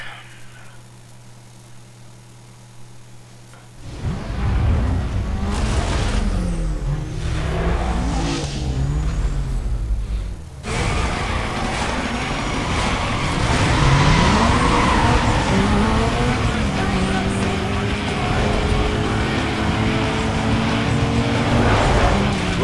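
A car in Need for Speed Most Wanted (2005) accelerates hard, its engine revving up through the gears with tire squeals, rising from quiet to a loud, sustained roar.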